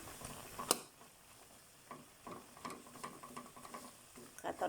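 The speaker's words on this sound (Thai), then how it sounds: "เดี๋ยวเราก็คนนะคะ คนนะคะ คนให้ข้าวเรา ยุ่ยแตก" Glutinous rice for sweet coconut sticky rice is stirred in a pot with a utensil, making faint, irregular scraping and tapping sounds with a light sizzle underneath.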